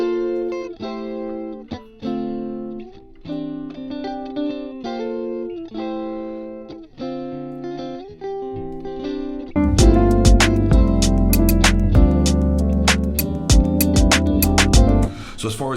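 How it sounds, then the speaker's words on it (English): Two clean electric guitars with no processing play a groove jazz tune, one panned left and one right. Picked chords and single notes are dry and close, and a fuller, louder strummed passage comes in about two-thirds of the way through. "So you're hearing these two guitars right now with no processing, no EQ, no reverb."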